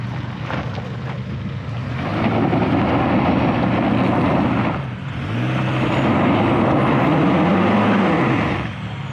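A Chevrolet Colorado Trail Boss engine labouring slowly up an off-road hill, a loud, close, sustained drone that rises and falls in surges with wind noise, no voices.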